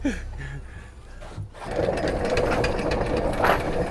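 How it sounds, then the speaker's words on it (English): A steady mechanical grinding and whirring rises after a brief quieter moment, continuous and fairly close: a boat's anchor winch hauling in the anchor chain. "that noise you can hear behind me, that's the anchor coming in"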